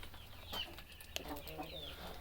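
Chicken hen clucking softly a few times in a short burst, moderately close over low background hum.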